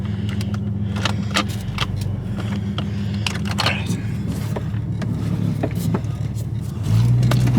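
A Jeep in four-wheel drive rumbles steadily at low speed, with scattered clicks and knocks from inside the cabin. The engine note rises near the end, and people talk in the background.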